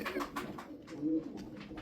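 Sütbeyaz pigeons coo in a short run of soft, low, throaty calls, several overlapping phrases close by with a quiet room hum underneath and no voices.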